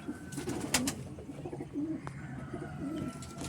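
A rain-dampened domestic pigeon at a pigeon sale coos in a few soft, low bursts, faint and nearby, amid a busy background of rustling and clatter.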